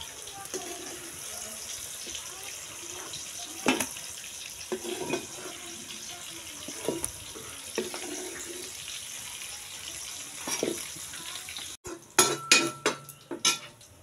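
Metal utensils clatter and scrape against a pan as fried onion and tomato are lifted out on a rustic stove, with scattered clinks over steady kitchen hiss and a sharper burst of clattering near the end.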